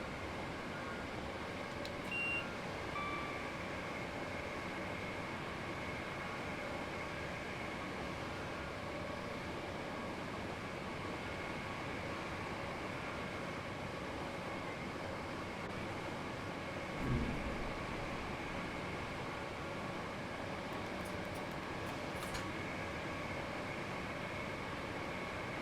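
A Southern Class 465 electric train runs from Brighton toward London Victoria in a train simulator game, giving a steady, continuous rumble and hum with a brief thump partway through and no talking.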